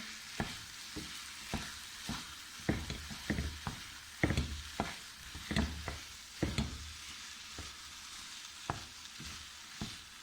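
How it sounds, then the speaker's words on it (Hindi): Semolina halwa (suji halwa) is stirred in a hot pan, a steady sizzle broken by irregular scraping strokes and soft clacks of the spoon, close and alone without talk. "थोड़े थोड़े हम हिलाते जाएंगे"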